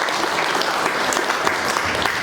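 Continuous applause from an audience at an album launch ceremony, dense and steady clapping held at an even level throughout without pause.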